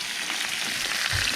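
Chicken breast sizzles steadily in canola oil in a hot pan, a dense, even crackle throughout with a slight low surge near the end.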